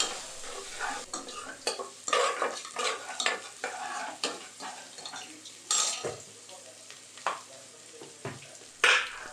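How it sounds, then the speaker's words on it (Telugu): A spoon stirs ginger through a pea and tomato curry in a pan, giving repeated scraping strokes against the metal over a soft sizzle, close and fairly quiet, with no talking. "అల్లం వేసుకున్న తర్వాత మంచిగా కలిపేసుకోండి"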